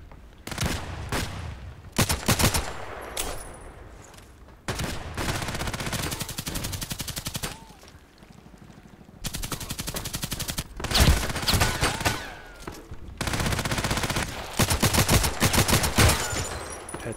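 A Keter gun fires in the game Contract Wars in rapid automatic bursts. The sharp, closely spaced shots come in several clusters separated by short pauses, loud and close throughout.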